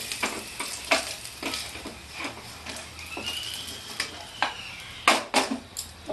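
Vegetables fry in oil in a pan for a Bengali-style fish roe sukto, a soft steady sizzle broken by repeated sharp scrapes and clinks of a spatula stirring against the pan.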